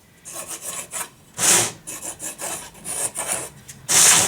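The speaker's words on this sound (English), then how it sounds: "the same technique still works as long as you have a nice fresh piece of sandpaper to work on" A segmented wooden drum shell ring is rubbed across fresh sandpaper, giving close, rough rasping strokes in an irregular back-and-forth rhythm, with a few louder scrapes standing out.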